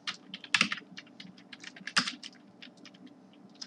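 Code being typed on a computer keyboard: quick irregular key clicks with a couple of louder presses, close and clear with no voices.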